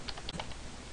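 A web address typed on a computer keyboard, a quick run of light, close key clicks at an even pace for about a second.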